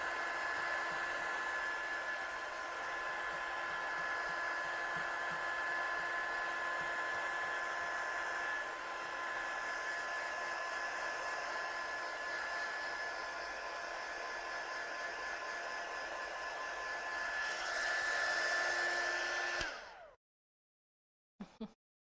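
A hair dryer blowing on a handmade paper collage, a steady close whooshing drone with a high whine, running for about twenty seconds before cutting off, followed by a couple of faint clicks.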